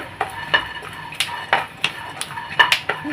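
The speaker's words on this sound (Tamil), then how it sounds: "இப்படி பட பட படன்னு சத்தம் கேட்கணும் பச்சை வேர்க்கடல் இல்லையா அதனால் இப்படி சத்தம் கேட்கும்" Raw peanuts give irregular sharp pops and crackles while dry roasting in a pan, mixed with scraping as they are stirred, close up with no voices.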